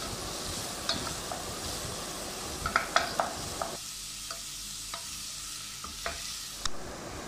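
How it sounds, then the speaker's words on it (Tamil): Onions fry in oil in a pan with garlic, curry leaves and green chillies, a steady close sizzle with light, scattered stirring taps, easing somewhat partway through. "வெங்காயம் நல்லா பொன்னிறமாகிற வரைக்கும் நல்லா வதக்கிக்கோங்க"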